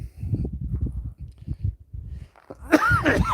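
A single sharp sneeze bursts out near the end, loud and close, after a stretch of low rumbling footsteps or movement.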